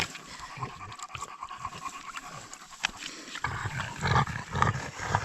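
Dogs pant in quick, rough rhythmic breaths during a mushroom-picking walk in the forest, close by and moderately loud, growing heavier toward the end with no voices over it.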